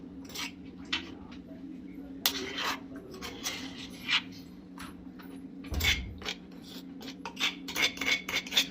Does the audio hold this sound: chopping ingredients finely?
yes